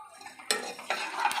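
Whole coriander, white cumin and panch phoron dry-roast in a pan, stirred with a utensil: a few quick, close scraping strokes and light rattles against the metal, with no talking.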